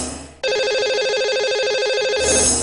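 Telephone ringing after a lucky caller's number is dialed on a live Indian TV program, a steady electronic ringtone warbling loudly for about two seconds after a brief lead-in, then cutting off into a fading tail.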